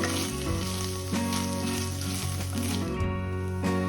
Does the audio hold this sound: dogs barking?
no